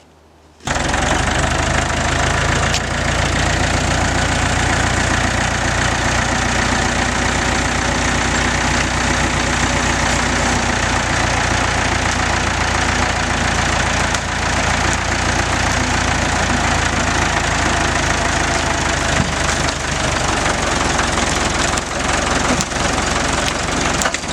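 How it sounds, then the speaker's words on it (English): A Massey Ferguson 255 tractor runs continuously during logging, a loud, close, steady diesel engine drone with knocking texture that starts abruptly after a brief quiet opening. "We'll fire up the tractor, kick the gears into motion"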